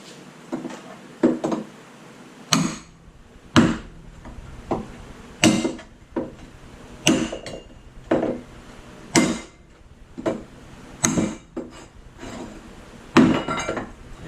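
A hammer strikes a welded metal joint made with a Harbor Freight flux-core 125 welder, about a dozen sharp ringing clanks spaced a second or so apart, loud and close with no talking.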